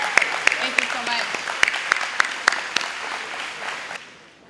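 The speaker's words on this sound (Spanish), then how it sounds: "Un aplauso fuerte para los estudiantes de Southwest Early College High School." An audience claps for high school students at a dual-language bi-literacy certification ceremony. Scattered, moderately loud claps come over a room murmur, then taper off and fade out near the end.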